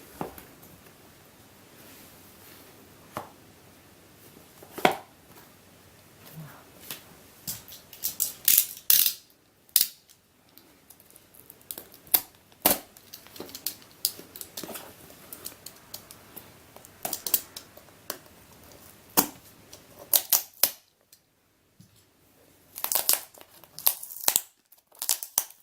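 Someone opens a heavily taped AliExpress package, with irregular crinkles, tape rips and sharp plastic clicks and snaps coming close and sporadic amid quiet gaps.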